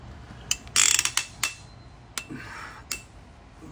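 Ratchet tightening cylinder head bolts on a Kia Soul 2.0 engine: short bursts of rapid close clicking and a few sharp metallic clanks, with pauses between strokes.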